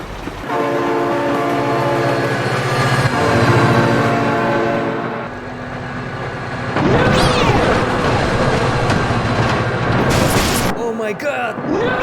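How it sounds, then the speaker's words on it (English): A train passing in the BeamNG driving game, its loud sustained horn chord blaring, then rumbling wagons and screeching squeals as it goes by, with excited voices over it. "Oh my god, train!"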